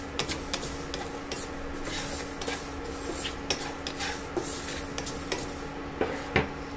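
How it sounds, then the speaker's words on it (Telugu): Fenugreek seeds dry-roasting in a pan for homemade spicy karam podi, stirred steadily with a utensil that makes repeated light scraping and clinking strokes over a soft, continuous sizzle, close and moderately loud, with no talking. "మెంతులు వేయించుకుని ఫస్ట్, మెంతులు కూడా త్వరగా మాడుతాయి."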